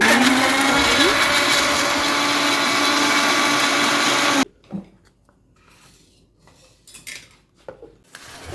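A mixer grinder whirring through chopped tomatoes for a country chicken curry, a loud steady motor drone for about four seconds that stops abruptly, followed by quieter clinks and clatter of kitchen utensils.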